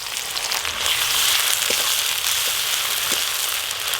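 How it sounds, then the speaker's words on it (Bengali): Ginger-garlic paste and chopped onions fry in hot oil for a fish curry, giving a steady broadband sizzle that holds level throughout with no talking. "আদা রসুন পেঁয়াজ তো ভাজা হয়ে গেছে"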